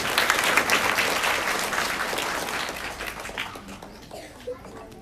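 An audience at a primary school event claps loudly and densely for a few seconds, then the applause thins and fades away, with faint voices in the background.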